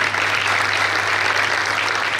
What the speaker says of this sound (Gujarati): વર્ષા માટે જોરદાર તાળીઓ પાડો